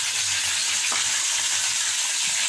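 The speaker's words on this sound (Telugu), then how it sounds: "Oil heat ఎక్కుందండి. పోపు గింజలు వేస్తున్నాను." Tempering seeds dropped into hot oil give a loud, continuous close-up sizzle with a bright crackling hiss throughout.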